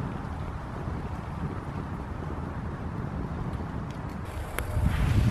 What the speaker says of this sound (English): since the wind is mainly blowing that way